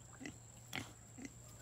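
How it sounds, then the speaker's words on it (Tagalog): Pig in a farm pen grunting three times, short low snorts spaced evenly apart, fairly close and quiet over a steady background hum. "Ang paniwala ko po kasi ay mabait na baboy naman si Kay"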